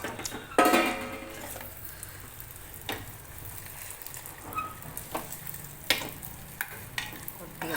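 Coconut and sesame seeds roast in a pan for papaya halwa, giving a soft, low sizzle broken by sharp scraping and stirring clicks against the pan, close by and moderately quiet.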